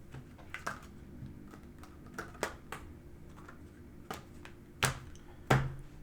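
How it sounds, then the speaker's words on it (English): Tarot cards are dealt face down off the top of a deck, giving soft scattered taps and flicks at irregular intervals, close and quiet, with two sharper snaps near the end. "I'll deal the spread out face down right off the top of the deck."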